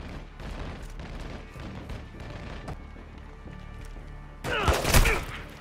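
Gunfire in the Call of Duty: Modern Warfare 2 campaign: distant scattered shots and thumps under quiet game ambience, ending in a loud close burst of fire near the end.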